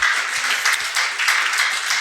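Listeners at a talk on smartphone use and productivity clap on request; brisk, slightly uneven applause from a modest group sounds close and clear, with individual hand strikes standing out throughout.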